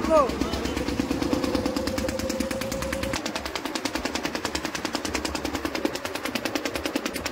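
A river ferry trawler's engine chugs on the Ganges in a fast, steady mechanical rhythm, loud and close, with voices over it in the opening seconds.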